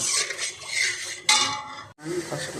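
A metal spoon stirs spices in a cooking pot for a taro curry, scraping and clinking against the pot, with one sharp clink midway and a brief pause before the stirring resumes.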